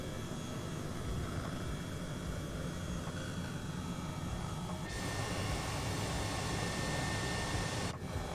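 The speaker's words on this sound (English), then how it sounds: "I have never landed a helicopter on a building before." Simulated helicopter in Microsoft Flight Simulator, a steady loud rotor and engine drone flying over Tokyo, with an abrupt shift in tone midway and no talk.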